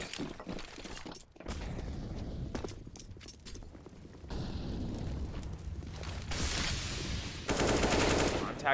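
Rapid AUG rifle bursts crack through a Counter-Strike match, mixed with in-game footsteps, clatter and effects, layered and dense throughout with shifting loudness.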